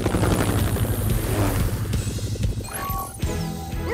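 Cartoon rescue helicopter thrums with a rhythmic rotor chop, loud and near, before fading slightly as brighter whooshing effects pass over it.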